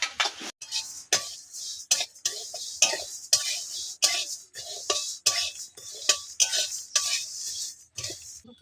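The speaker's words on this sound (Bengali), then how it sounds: "ডালটা দেখুন ভাজা ভাজা হয়ে গেছে।" A spoon scrapes and clinks in a series of sharp, rhythmic strokes as dal lentils are dry-roasted and stirred in a wok, each stroke distinct and close, with brief quiet gaps between.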